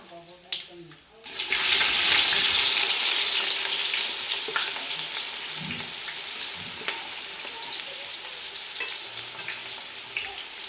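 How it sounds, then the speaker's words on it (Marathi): Chopped onion dropped into hot oil already crackling with cumin and mustard seeds for khichdi, bursting into a loud, steady sizzle that settles into continuous frying, with faint stirring clinks and no talk. "जिरे मोहरी तडकल्यावर आपण ह्यात घालत आहे कांदा"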